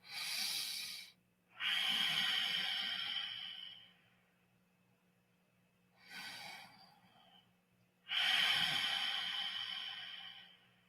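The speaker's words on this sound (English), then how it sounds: "breathing out slowly and constricting your trachea up here" Four long, slow breathy exhales forced through a constricted throat, each swelling and fading with a soft hiss like an ocean wave rolling in, separated by short pauses; close and fairly loud, with no talking over them.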